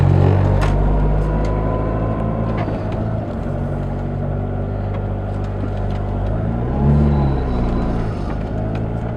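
A car rolls into the lot at Jack's Transmissions, a steady low engine rumble holding close and loud throughout, rising briefly as it moves in, with no talking.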